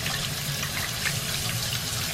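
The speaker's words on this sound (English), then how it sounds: "Maybe slow down the water." Water from a tap runs steadily onto hands lathering an old bar of soap, a continuous soft hiss and splash at close range with no voices.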